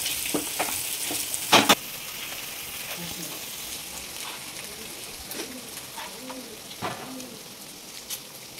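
Egg with spices being smashed and mixed in a hot pan for egg noodles: a continuous sizzle with a cluster of sharp spatula clacks early on, while birds coo faintly in the background.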